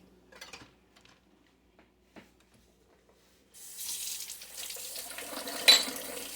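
Tap water runs into a sink as hands are washed while preparing a Puerto Rican pork roast. A few faint clinks come first, then a steady close stream of water starts partway through and continues.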